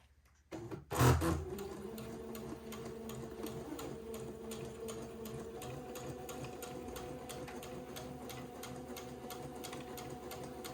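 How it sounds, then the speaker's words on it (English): A sewing machine runs steadily, stitching long basting stitches along the top of a daygown, its close, even mechanical whir continuing for about ten seconds after a brief louder start. "let me carry on and sew basting stitches"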